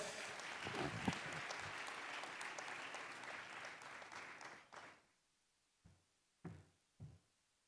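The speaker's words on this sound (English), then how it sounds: "let's give a round of applause." A room claps in a round of applause at a ceremony celebrating the 60th anniversary of Kenya's diplomatic relations, a dense sustained clapping that fades out after several seconds, followed by a few isolated claps or knocks.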